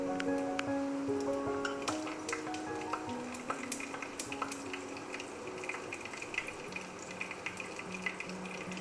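Whole fennel seeds, two cardamom pods and two cloves sizzle as they hit hot oil in a pan for duck curry, giving a steady close crackle with sharp little pops throughout.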